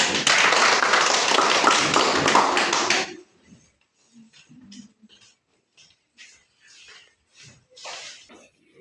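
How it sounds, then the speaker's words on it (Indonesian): Classroom applause for a student group at a vocational high school: a dense, loud burst of many hands clapping together for about three seconds that then stops abruptly, followed by scattered quiet shuffling and faint murmurs. "Tepuk tangan untuk kelompok 2."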